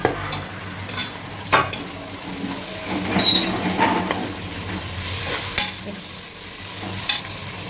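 Tomatoes sautéing in a pan hiss and spit at close range while a spatula knocks and scrapes against the metal every second or two.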